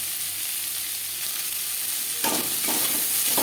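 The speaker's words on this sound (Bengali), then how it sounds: "পেঁয়াজ বেশ ভালো করে মিক্স করে দেবো" Chopped onion and slit green chilies fry in a little oil, a continuous close sizzle with a few louder scraping bursts as they are stirred in the pan, no voices.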